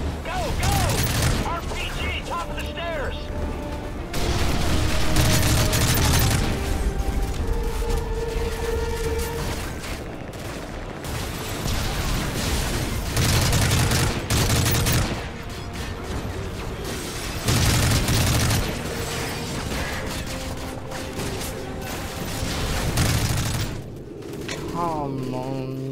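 Sustained bursts of rifle gunfire in Modern Warfare 3 clatter in repeated waves during a courtyard firefight, with booms and shouted voices mixed in.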